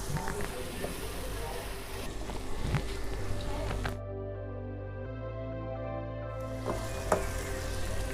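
Garlic ginger paste frying in a pan for an achar gosht curry, a continuous close sizzle with scraping stirs throughout, and a steady hum that cuts out partway and then returns.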